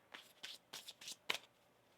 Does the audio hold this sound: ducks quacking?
no